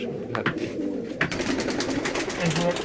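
Close Giribaz pigeons coo in low, soft throaty bursts, repeating under a busy background with a few voices.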